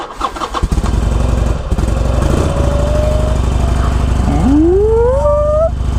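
A 2021 Harley-Davidson Sportster Iron 883 motorcycle cranks and fires up, settling into a loud, deep, steady idle with a pitch that climbs and falls as the throttle is blipped.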